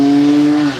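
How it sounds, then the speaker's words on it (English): A loud car with its muffler cut off drones nearby with a strong, steady low tone that eases off toward the end, with no talking. "These kids cut their mufflers off and think their cars sound good"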